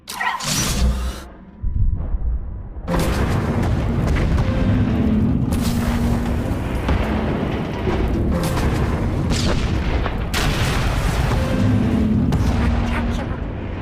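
Heavy, continuous booming blasts and weapon fire from a sci-fi video game, loud and dense with rumbling explosions throughout, with a brief lull near the start; voices talk over parts of it.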